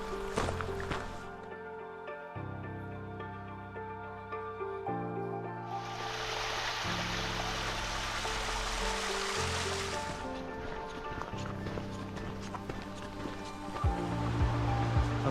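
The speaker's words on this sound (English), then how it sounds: "It's the waterfall at Birkside Gill." The waterfall at Birkside Gill, near Helvellyn in the Lake District, gives a steady rushing hiss of falling water under background music, swelling louder midway and then settling back.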